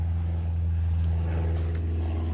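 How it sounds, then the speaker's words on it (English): Helicopter overhead above a countryside picnic spot, a steady low droning hum with a constant rotor tone, moderately loud and unchanging over a short span. "Cue the helicopter."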